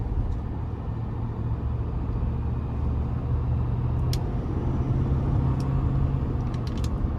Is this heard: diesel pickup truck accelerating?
yes